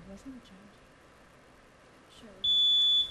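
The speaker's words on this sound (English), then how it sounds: "Everybody get ready to ring in that buzzer anyway" A quiz tournament buzzer rings in with a loud, steady electronic tone lasting under a second, following a brief stretch of quiet talk and room noise.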